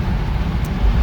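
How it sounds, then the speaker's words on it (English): An Audi S4 Quattro driving, a steady low engine and road rumble heard briefly from inside the car, with no talking. "So guys, I'm driving the S4."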